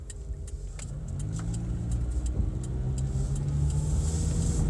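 Toyota car driving on a rainy day, a steady low engine drone with road rumble that rises slightly and holds constant, heard from inside the car without talk.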